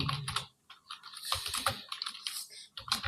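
Close, quiet typing on a computer keyboard produces a busy patter of irregular key clicks in quick bursts with brief pauses, heard alone.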